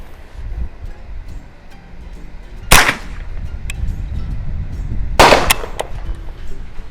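Two sharp gunshots from a Mossberg 152 .22lr rifle crack a few seconds apart outdoors, each with a quick echo, over a soft background rustle.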